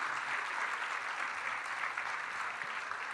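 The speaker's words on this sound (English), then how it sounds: "Ladies and gentlemen, big applause for Mr. Shan, please" Steady, dense applause from an audience fills a session at the Jaipur Literature Festival, held at an even level with no talk over it.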